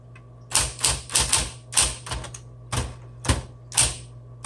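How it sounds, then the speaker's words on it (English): A 1960s Smith Corona Coronet electric typewriter typing, crisp sharp key strikes in short irregular bursts of one to three hits over a low steady motor hum, close and alone. "and then let's start typing."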